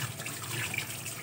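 A fish being rinsed under a steady stream of fresh tap water in a kitchen sink while preparing it for frying, with continuous close splashing and running water throughout and no talk.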